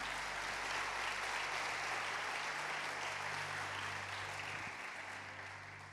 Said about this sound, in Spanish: Si va a aplaudir, aplaude al Señor.